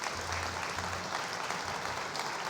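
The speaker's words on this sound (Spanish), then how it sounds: "Dale fuerte el aplauso al Señor." A church congregation applauds loudly and continuously, a thick wash of clapping with a faint low tone or hum beneath it early on.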